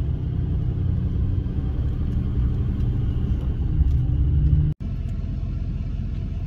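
A pickup truck travelling a rough, remote rural road in Utah, producing a steady low rumble of engine and tyre noise that runs continuously with a brief dropout near the end.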